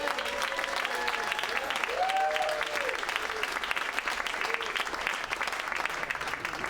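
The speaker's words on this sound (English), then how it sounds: "Jessica Larkin, give her a nice round of applause." Sustained applause from a comedy club audience after stand-up comedian Jessica Larkin finishes her set, steady dense clapping throughout with faint voices mixed into the crowd.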